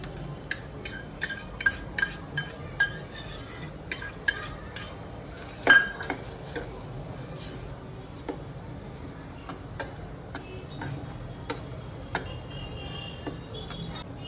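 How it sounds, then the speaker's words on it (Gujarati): Metal spoon scraping and clinking against a pan while paneer curry paste is stirred, a steady low sizzle beneath irregular sharp taps, one louder clank midway, with no talking. "પેસ્ટ નાખી તેમાં 2 થી 3 મિનિટ સુધી તેને હલાવો"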